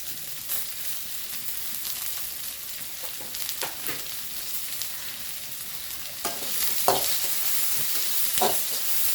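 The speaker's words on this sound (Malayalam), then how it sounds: "അതിലേക്ക് നമ്മൾ സബോള കണ്ട പച്ചമുളക് ഇട്ടിട്ട് ഒന്ന് വഴറ്റാം" Sliced onions and green chilies sauté in a little coconut oil, giving a steady soft sizzle with occasional stirring scrapes and clicks that grow busier toward the end. No one talks.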